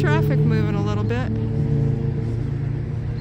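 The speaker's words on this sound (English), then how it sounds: "Traffic moving a little bit." Slow road traffic near Shepherdsville, Kentucky, a steady low engine rumble with a brief voice-like tonal sweep early on, continuous and fairly close.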